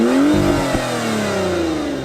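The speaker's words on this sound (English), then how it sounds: "It's really easy to start the vehicle." Toyota Supra sports car engine starting up and revving, a loud close roar that climbs then settles into a falling, wavering drone with a brief blip partway through.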